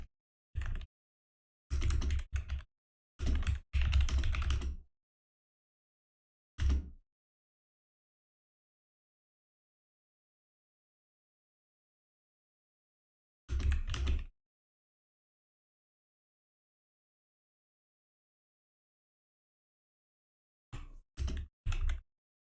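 Scattered bursts of typing on a computer keyboard, short clusters of clicks separated by long silences, close and clear.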